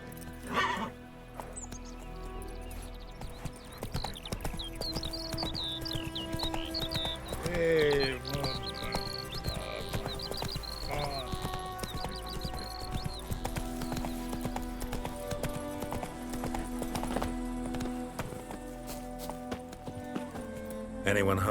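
A horse's hooves clip-clop steadily across ground in The Witcher 3, the rhythmic footfalls joined by a neigh partway through, with birds chirping faintly and a voice speaking at points.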